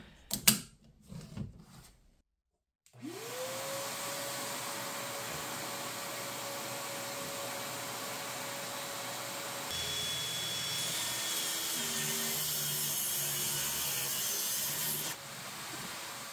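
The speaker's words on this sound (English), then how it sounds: "I set up the bandsaw fence to rip this maple block down" A tabletop bandsaw whirs up to a steady whining hum, then strains as it rips a maple block lengthwise, the cutting adding a rougher buzzing roar for several seconds before the blade frees and the sound drops away.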